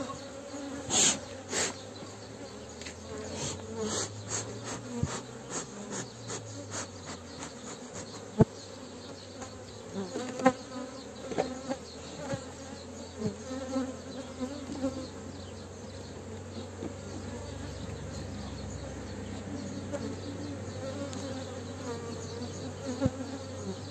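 Honeybees buzzing steadily around an open hive while frames are installed in the first honey super, a close, constant drone with scattered sharper bee passes and faint handling noises.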